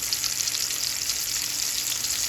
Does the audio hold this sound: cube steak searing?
yes